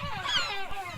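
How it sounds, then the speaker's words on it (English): A single harsh, wavering call from an angry gull sounds close overhead on the Skerries, loud and brief. "Not easy with some angry gulls above you"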